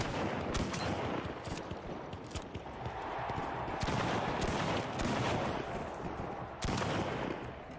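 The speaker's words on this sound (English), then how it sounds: "What is shooting me?" Rapid gunfire in the shooter game The Finals, bursts of shots crackling continuously over a dense, noisy battle backdrop, fairly close and steady throughout.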